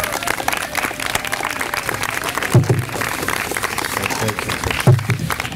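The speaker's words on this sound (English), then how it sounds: "So for all the teachers, let's give them a round of applause." An audience applauds teachers at the Yonkers Teacher of the Year awards: dense, continuous clapping from a crowd, fairly loud and close, with a few heavier thumps and crowd noise mixed in.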